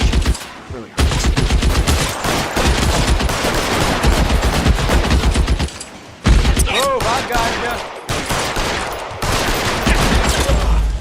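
Dense automatic gunfire and rapid volleys of shots in the video game L.A. Noire fill nearly the whole stretch, loud and continuous with brief pauses, while a voice speaks occasionally beneath.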